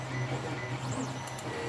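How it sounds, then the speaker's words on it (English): A 3D printer runs steadily with a continuous low mechanical hum, a faint whirring and a brief rising stepper-motor sweep near the middle, close to the microphone with no talk. "it's actually not that loud of a printer, which is cool."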